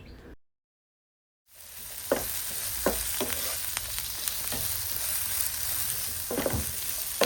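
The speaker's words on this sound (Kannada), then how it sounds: "ಹಾಗೆ 2 ಈರುಳ್ಳಿನ ಕಟ್ ಮಾಡಿ ಹಾಕ್ತಾ ಇದ್ದೇನೆ. ಅರ್ಧ ಟೊಮ್ಯಾಟೊ, ಹಾಗೆ ಸ್ವಲ್ಪ ಆಯಿಲನ್ನು ಸೇರಿಸಿ ಫ್ರೈ ಮಾಡಿಕೊಳ್ಳಿ." Ginger, garlic, chopped onion and half a tomato fry in oil for a fish curry. After a brief silent gap there is a steady sizzle, broken by repeated scraping stirs of the spoon against the pan.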